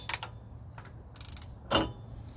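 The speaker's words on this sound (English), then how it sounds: "we're gonna torque this thing down to 155 or 150 foot-pounds" Ratcheting clicks and metallic clacks as a torque wrench tightens the 34 mm front axle hub bearing nut on a GM car, in a few short bursts ending with a louder clunk, close up.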